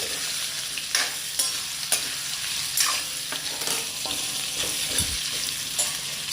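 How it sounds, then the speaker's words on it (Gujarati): Raw mango pieces tipped into a hot frying pan and stirred, a steady sizzle under regular scraping strokes of a spoon against the pan, close and fairly loud. "આપણે એની અંદર જે આપણા કેરીના ટુકડા છે તે નાખી દઈશું"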